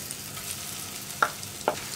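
Soya chunks frying in oil make a soft, steady sizzle, broken by two sharp clicks from the pan near the end, with no voices.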